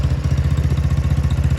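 A Yerf Dog go-kart engine, pulled from an Idaho snow bank, runs steadily at close range with a fast, even low-pitched chug and rattling clatter, no voices over it.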